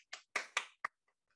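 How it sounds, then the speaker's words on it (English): A few children clapping for a performance: four or five sharp, separate claps in an uneven burst, then fading to a couple of faint taps, close and fairly quiet. "Let's clap for them."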